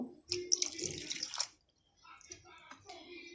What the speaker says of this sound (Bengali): এবার ছানাটাকে আমি একটু জল দিয়ে ভালোভাবে ধুয়ে নেব